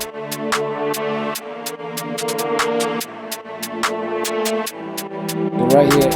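A drill-style drum machine beat plays with sharp, regular clap hits over sustained synth chords and a low bass line, steady and upfront.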